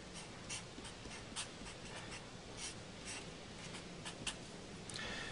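A pen scratches steadily across a writing surface during a maths lesson on completing the square, close and soft, in short repeated strokes with no voices.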